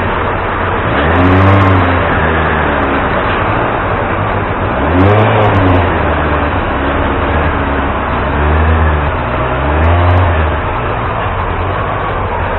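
A Honda CB-1 motorcycle engine running and revving after being started, loud and close, with a steady idle broken by three rising and falling throttle blips spaced a few seconds apart.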